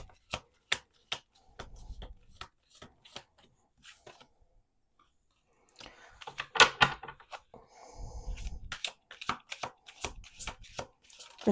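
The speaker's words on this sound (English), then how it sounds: "I'm going to do 2 more shuffles." Tarot cards being shuffled at close range, a quiet run of crisp riffles and sharp flicks in uneven bursts, with short pauses between bursts.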